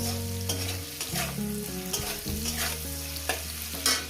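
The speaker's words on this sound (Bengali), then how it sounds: "পরিমাণ মতন আমি লবণটা দিয়ে দেবো দিয়ে এটা মিনিট দুয়েক ধরে ভেজে নেব" Potatoes frying with salt in a pan give a soft sizzle and stirring, mostly buried under prominent tuneful background music with shifting sustained notes.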